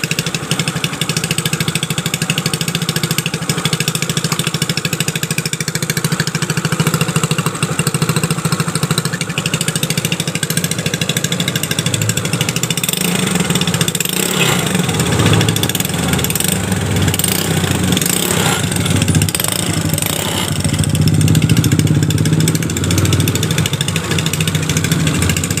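A Piaggio Liberty scooter engine runs continuously with a rough, uneven idle, close by and fairly loud, its rumble fluctuating throughout.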